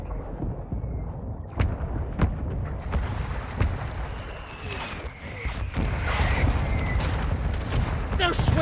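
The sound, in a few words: mortar strike explosions in Call of Duty Modern Warfare II video game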